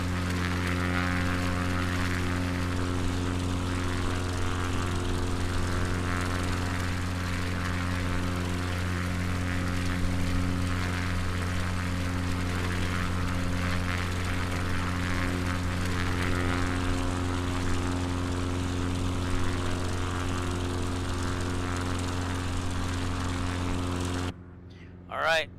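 An X-Cub propeller plane drones steadily in flight in a simulator game, a constant engine hum with layered tones that runs unchanged for about 25 seconds and then cuts off abruptly.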